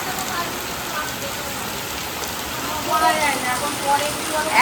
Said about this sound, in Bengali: এত জোর বৃষ্টি নেমেছে, শুধু দেখো।